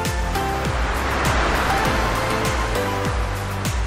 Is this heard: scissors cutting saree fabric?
no